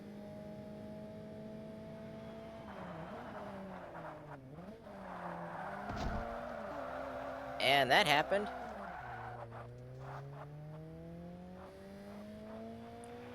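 Ultra-light race cars racing in Forza Motorsport, engines droning and shifting pitch steadily while a loud burst of tire squeal and skidding cuts in midway, with someone commenting throughout.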